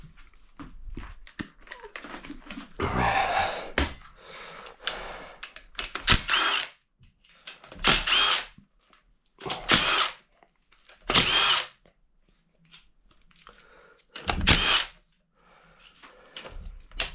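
A power tool buzzes in repeated short bursts as it backs bolts out of an engine front cover, each whir lasting about a second with quiet pauses between, close and fairly loud.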